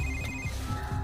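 A telephone rings with a steady electronic tone that pulses in short bursts over a low background hum, without any voices.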